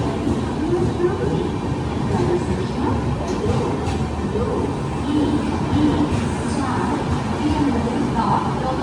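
The Kochuveli–Mumbai LTT superfast express rolls into a station, a continuous loud rumble of rail cars with faint wheel clatter throughout, while people talk nearby.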